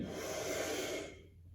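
A long, deep breath pushed out during a stretching exercise, close and breathy, fading away after about a second.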